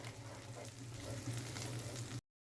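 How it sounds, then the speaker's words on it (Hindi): Onions frying with cumin and dried red chilies for a white lobia masala curry, a steady dense sizzle that runs close and even, then cuts off abruptly, with no talking. "इसको थोड़ा सा जो है वो फ्राई करते हैं,"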